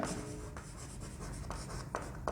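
Chalk or marker strokes on a classroom board during a Class 12 chemistry lesson on solid-state unit cells, a steady run of short scratchy strokes with a few sharper taps, close by and fairly quiet, with no talk.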